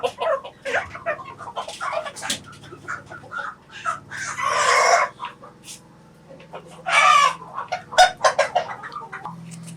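Chickens and roosters on a poultry farm in Juba cluck continuously, with two loud, close crows rising above the flock and little talk.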